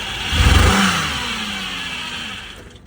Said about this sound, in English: And put it in gear, moving it forward.